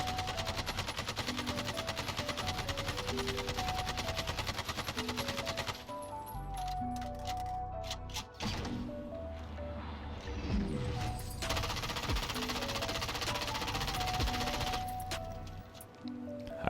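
AK-47 hip fire in Warzone, a loud continuous rapid-fire burst for several seconds, then game ambience with scattered shots and clatter.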